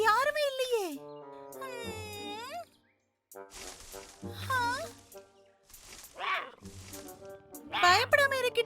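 High, wavering kitten-like mews from a tiger cub in a comedy cartoon, several calls in a row mixed with cartoon voices speaking, with a brief pause midway.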